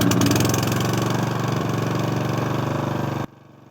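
A broken water pump's engine runs steadily at a farm vegetable garden, a loud, even mechanical drone with a fast rhythmic chug that cuts off abruptly near the end, leaving near silence.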